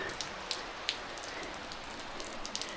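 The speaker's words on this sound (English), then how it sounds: "The rain is definitely coming down now" Rain falls steadily, a soft hiss of drops with occasional sharper patters of individual raindrops close by.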